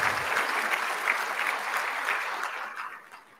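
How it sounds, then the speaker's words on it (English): Audience at an academic colloquium event claps warmly for sponsors seated at the front tables, a steady wash of applause that holds for a few seconds and then tapers off. "let's give them a round of applause."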